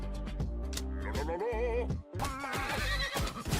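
Small horses and ponies in a fantasy video game neigh and whinny in a series of shrill, wavering calls over game music and effects.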